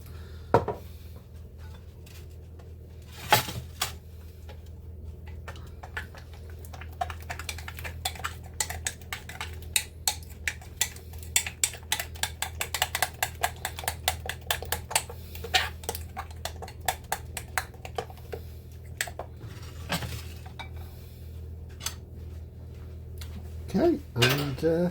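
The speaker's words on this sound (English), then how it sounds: "and then we basically mix it all together." Food being mixed together in a bowl with utensils: irregular clinks and scrapes of metal against the dish repeat steadily for a long stretch, close by, with faint talk at times.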